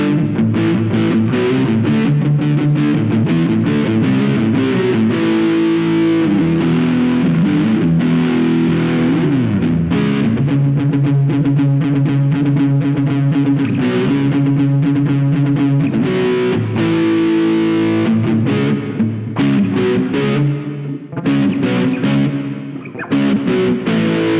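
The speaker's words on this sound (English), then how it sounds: "Let's hear with a little bit of a reverb" Distorted electric guitar through a NUX Mighty Lite BT modeling amp, playing chords and riffs continuously, loud and dense, with a reverb wash and effects coloring the tone throughout.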